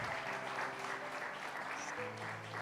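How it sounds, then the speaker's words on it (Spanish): Church congregation applauding in praise at a Saturday general service, steady dense clapping throughout with a sustained musical keyboard or organ tone underneath. "Dan un aplauso al Señor."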